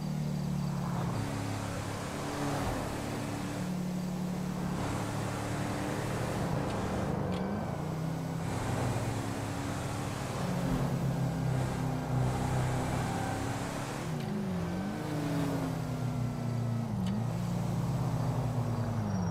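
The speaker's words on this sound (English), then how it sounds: "that's the car I'm arriving in for the wedding" A car in Grand Theft Auto V drives up and arrives, its engine a steady, continuous hum with shifting tonal whines, moderately loud and close, with no talk over it.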